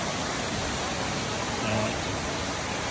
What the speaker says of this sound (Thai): อันนี้คือ บริเวณน้ำตกกันด้าก็เป็นป่าทึบ